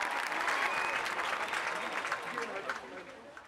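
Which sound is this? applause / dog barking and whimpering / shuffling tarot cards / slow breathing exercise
applause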